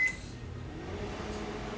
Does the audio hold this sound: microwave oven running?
yes